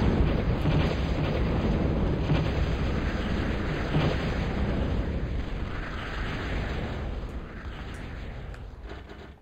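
Bombing explosions in a real-time strategy game rumble as a continuous heavy roar with scattered sharp pops, loud at first and slowly fading toward the end, with no voices.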